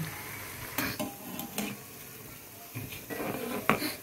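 Egg fritters coated in maida batter being stirred in shallow oil, with soft scraping strokes against the pan and a gentle sizzle, a few distinct stirring clinks spaced across the moment.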